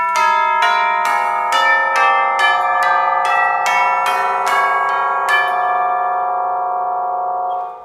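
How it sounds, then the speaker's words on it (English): Orchestral tubular chimes struck in a quick run of about eleven loud notes, each ringing on so the tones pile up and blur into a dense, clashing wash that slowly decays, with no voices. "you're going to get a bleeding over of these different sounds, and it's going to sound really nasty if I do things like this."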